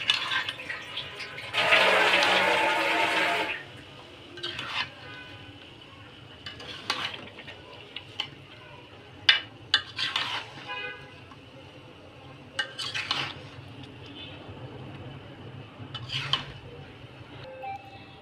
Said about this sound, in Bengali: এখন আমগুলো নাড়া দিতে হবে।